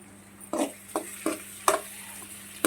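Curry leaves frying in a pan of pasta, giving a steady low sizzle broken by several sharp crackling bursts spaced roughly every half second.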